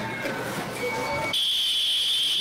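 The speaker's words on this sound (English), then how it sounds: "here's a video of him pulling the fire alarm at Olive Garden" A fire alarm starts abruptly partway through inside an Olive Garden restaurant, a loud, steady high-pitched electronic tone replacing muffled background noise.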